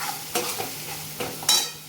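Ground coriander-cumin sizzles gently in a pan over low heat while a spoon scrapes and taps against it a few times, the last scrape sharp and close.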